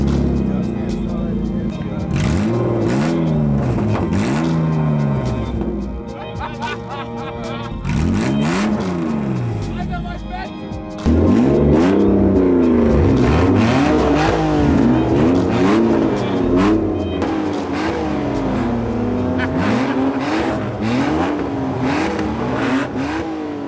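A loud rally car engine revs hard through an open, cut exhaust, rising and falling in repeated surges close by, with a voice talking in German over it.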